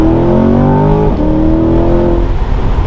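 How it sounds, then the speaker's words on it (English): A stock 2022 Chevrolet Corvette C8 Stingray Z51 launching hard, its engine revving loudly and rising in pitch, a brief shift, then pulling strongly again, close and dominant. "So let's do another acceleration. You gotta have all the fun with the launch."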